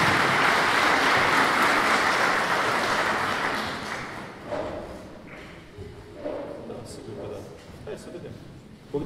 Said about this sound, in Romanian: Pe Bogdan puteți să-l aplaudați,